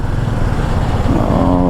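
A Royal Enfield Guerrilla 450 motorcycle is ridden in second gear on a Mumbai to Nashik highway run, its engine droning loud and steady up close with a slight rise in pitch.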